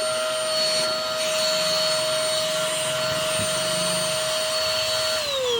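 A repaired vacuum cleaner drones steadily and loudly from start to finish, with a high whine; near the end the pitch drops slightly as the motor changes.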